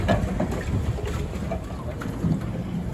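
Pedal-powered swan boat moving across Lake Eola in Orlando, Florida, with steady water sloshing and wind noise close to the microphone, and faint voices in the background.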